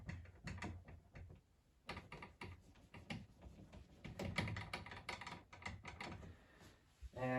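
Writing is wiped off a board: a quiet, close series of rubbing, squeaking and tapping strokes in irregular bursts, with a brief louder scrape at the end.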